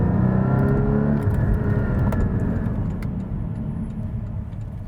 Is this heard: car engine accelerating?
yes